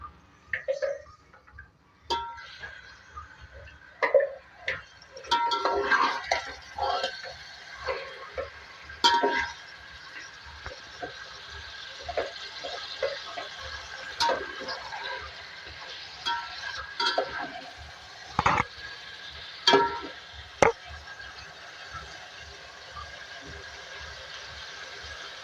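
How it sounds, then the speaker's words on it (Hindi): One kilogram of beef frying in oil for beef tahari, a faint steady sizzle broken by scattered clinks and scrapes of stirring with a spoon in the pot, quiet and close, no speech. "सबसे पहले ऑयल में 1 kg में बीफ ऐड करूँगी, फ्राई करेंगे ऑयल में।"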